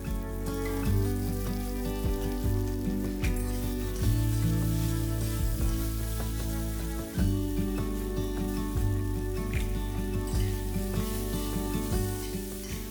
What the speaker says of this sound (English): in a kadhai, I'll take some mustard oil and saute some cumin, fennel, kalonji, ajwain and the dry spice mix